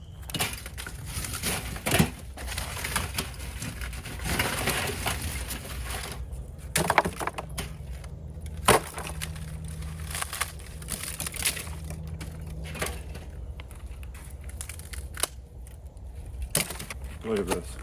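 Brittle, woody clatter and crunching as chunky pieces of biochar charcoal are shuffled and knocked together, with sharp cracks scattered over a steady low background hum.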